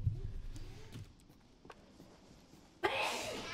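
A single sharp sneeze bursts out near the end, loud and close, following a stretch of quiet ambient wind and faint shuffling.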